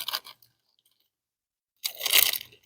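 Crunchy food chewed outdoors, with a short crunch at the start and then, after a silent pause, a louder burst of close, crisp crunching.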